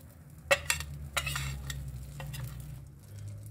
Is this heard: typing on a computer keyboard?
no